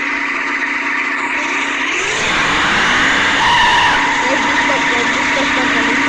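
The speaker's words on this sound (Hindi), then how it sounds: "फाइनली बहुत मुश्किल के बाद ये स्टार्ट हो चुकी है हमारी कार, तो चलिए चलाते हैं" A car starts moving after a hard start in a well-of-death stunt arena. The engine note rises and holds steady with some tire noise, loud and continuous, while a voice talks over it.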